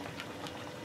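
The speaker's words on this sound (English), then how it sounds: "So anyway, this is bubbling away." A damson mixture bubbles as it boils in a pan, giving a close, dense, continuous patter of popping bubbles for a brief moment, with no voice.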